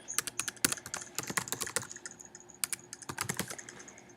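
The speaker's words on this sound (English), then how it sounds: "if you wanted to do a QR code for a website, you would just type in the website," Quick bursts of typing on a computer keyboard as a website address is entered, crisp close clicks in rapid irregular runs with short pauses between them, no talk.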